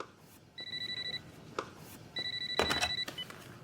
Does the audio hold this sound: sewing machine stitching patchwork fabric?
no